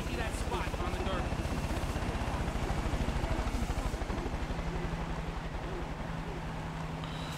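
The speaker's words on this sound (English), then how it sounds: "Helicopter, eh?" A helicopter flies in Far Cry New Dawn, its steady rotor thump and engine roar filling the scene loudly and continuously with no voices over it.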